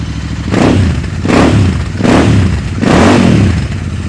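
A Royal Enfield motorcycle engine rumbles loudly nearby, swelling in three slow surges as the throttle is blipped between steady idling.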